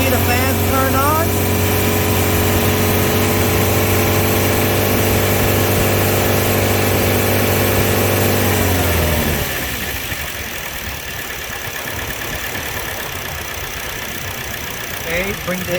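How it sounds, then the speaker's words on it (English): A 2008-2012 Chevy Malibu's radiator cooling fans run alongside the engine, a steady loud whirring hum over the engine's drone; midway the tone drops and settles into a lower, rougher idle-like rumble. "see the fans turn on"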